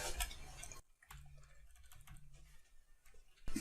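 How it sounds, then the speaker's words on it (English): HTML code being typed in Notepad on a computer keyboard, soft close key taps in an irregular rhythm, with a louder burst of noise at the start and end. "type another page element, beginning and end tag"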